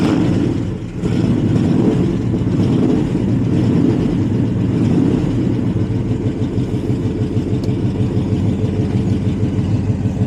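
A 1971 Chevy Chevelle SS V8 idling steadily after startup, a loud, close, smooth low rumble that holds even throughout.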